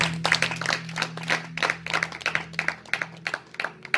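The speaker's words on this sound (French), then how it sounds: "Si tu es d'accord, acclame Camille" A church congregation claps together in a steady rhythmic beat, the sharp hand claps loud and close and continuing without pause, with little talking.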